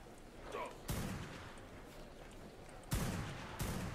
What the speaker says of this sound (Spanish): Por aquí, cuidado, están disparando.